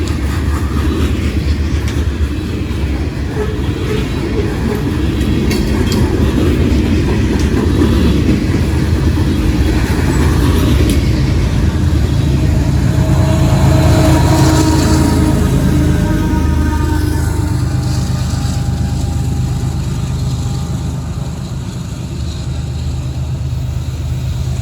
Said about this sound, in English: That was a good coal train there. That was a heavy one.